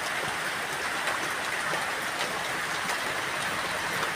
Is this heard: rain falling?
yes